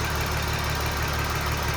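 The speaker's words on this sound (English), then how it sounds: "That tapping sound probably sounds a lot worse on camera" A Volkswagen R36 Passat Variant engine idles steadily up close, with a fast, even mechanical tapping ticking over the low drone.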